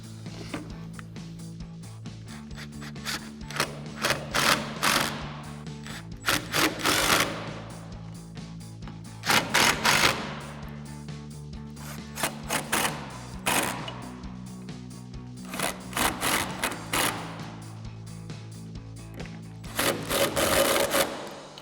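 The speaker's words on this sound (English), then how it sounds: "we'll go ahead and put our T50 Torx and extension on our impact" An impact driver with a T50 Torx bit and extension hammers in repeated loud rattling bursts while tightening the hinge bolts on a Jeep Wrangler JK, with pauses between the bolts, close up and without talk.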